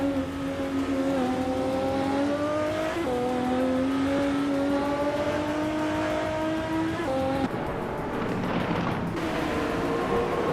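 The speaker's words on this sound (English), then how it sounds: "Maya is leading the race with a fast lap of just under 52 seconds in her 2003 Alzen Porsche 996 Biturbo" A 2003 Alzen Porsche 996 Biturbo race car racing, loud close engine revving up through gears with rising whine, shifts and a brief lift, continuous and without talk.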